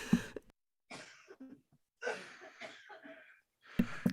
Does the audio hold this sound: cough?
yes